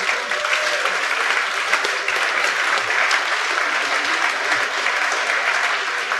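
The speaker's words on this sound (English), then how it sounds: "I think that was the biggest cheer." A live audience at a cycling talk show claps and cheers in a loud, dense, continuous burst of applause close up, with scattered whoops rising out of the clapping.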